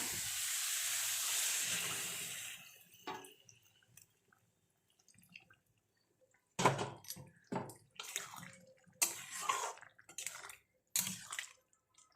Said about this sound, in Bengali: এবার জল দিয়ে দিচ্ছি, দেখো